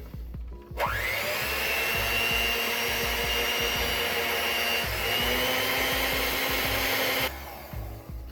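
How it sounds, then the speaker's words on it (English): An electric mixer beats eggs with sugar for aged eggnog. Its motor whine starts abruptly, holds a steady, loud, even drone for about six seconds, then cuts off. "we'll get to mixing, and we want to mix it until it's a pale into a pale kind of paste"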